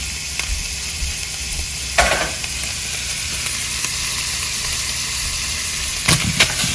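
Onion and pepper sizzle loudly with meat in a pan, a constant close frying hiss broken by a couple of brief stirring scrapes, with no talking.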